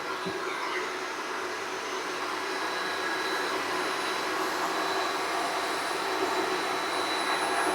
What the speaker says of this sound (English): Got 2 heat guns running.